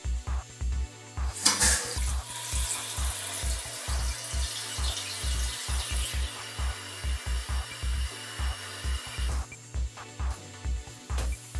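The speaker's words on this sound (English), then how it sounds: "Turn the water on and check for any leaks." Water runs steadily into a toilet tank after the supply line is reconnected to a newly reinstalled toilet, a continuous close hiss and trickle lasting several seconds, with a rhythmic low pulsing underneath.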